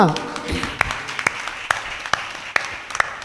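A church congregation at a Tamil Christian Sunday service claps in a steady run of sharp, evenly spaced hand claps, with a voice talking around them.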